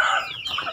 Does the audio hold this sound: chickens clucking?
yes